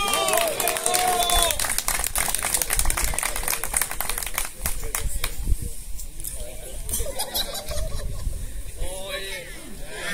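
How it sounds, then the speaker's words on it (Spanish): Applause from a crowd at a national championship awards ceremony for the 75-metre category, steady dense clapping that fills the clip, mixed with an announcer's amplified voice and crowd noise. "démosle un gran aplauso al señor Ángel Naranjo."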